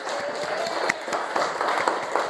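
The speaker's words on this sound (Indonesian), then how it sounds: "Mana Rainan? Tepuk tangan" Classroom applause from a group of children, a dense patter of claps with a few sharper hits standing out, fairly close and steady throughout with no talk over it.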